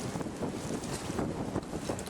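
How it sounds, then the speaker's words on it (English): Strong wind buffets the microphone outdoors at a rifle range, a steady loud roar of rumbling gusts with no voices. "Man, is it windy."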